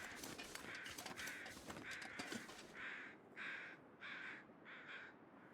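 Crows caw repeatedly outdoors, a series of harsh calls in uneven bursts, growing clearer and more evenly spaced over dense background noise in the second half.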